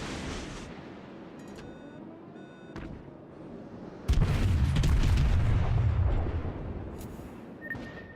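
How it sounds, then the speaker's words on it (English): Secondary guns on a warship auto-fire in World of Warships, a sudden heavy boom followed by rumbling gunfire and scattered blasts, loud and close after a quieter stretch of ambient sea and beeping. "I didn't know that I had, secondary armaments on this ship that auto-fired at other ships"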